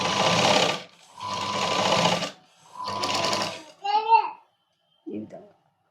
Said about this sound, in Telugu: ఇలా అనుకున్న తర్వాత మనం దీని మీద స్టిచ్ వేసుకోవాలి.